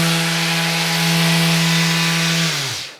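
A Festool sander switched on runs as a loud, steady whine for a couple of seconds, then its brake pulls it down to a quick stop, alone with no talk.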